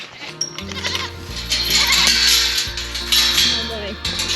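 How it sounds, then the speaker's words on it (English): Several goats bleat loudly and close by, overlapping wavering cries that rise and fall for several seconds, with faint clinking of dishes in the background. "Goat intermission."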